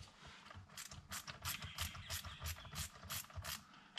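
Ratcheting clicks from a Torx bit undoing the airbag retaining screw on a 2005-2015 Toyota Hilux N70 steering wheel, a rapid steady run of sharp close ticks with no talking.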